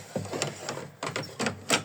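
An embroidery machine stitching satin stitches on an in-the-hoop cross bookmark, giving quick mechanical needle clatters in short bursts with brief pauses between them, close and moderately loud.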